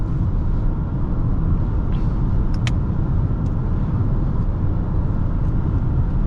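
A 2025 Lexus ES 350 with a non-turbo engine and conventional automatic, driven hard on the road, gives a steady, loud cabin drone of engine and road noise that holds for the whole stretch with no talk.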